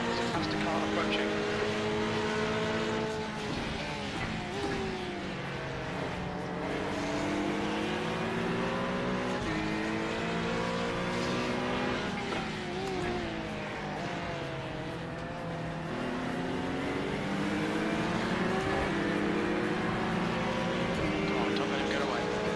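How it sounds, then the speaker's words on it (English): A race car in the iRacing sim, in an IMSA event at Watkins Glen, engine droning loud and steady with rising and falling pitch as a faster car closes in, a voice talking over it throughout. "Faster car approaching."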